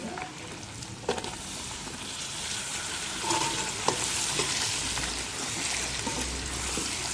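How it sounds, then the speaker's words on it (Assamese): Potatoes fry with pork in a pan, a close, steady sizzle broken by scraping stirs and a few clacks of the utensil. "আলুখিনি দি আৰু অকণমান দেৰি কাৰণে ফ্ৰাই কৰিম, যাতে আলুটো অকণমান সিজি যায়"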